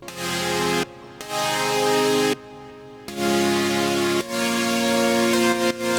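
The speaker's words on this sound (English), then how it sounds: "Alright guys, so I ended up with chords that sound like this." Future bass synth chords built from a lead preset ring out in sustained blocks, several stacked chords separated by short gaps, loud and bright with no voices.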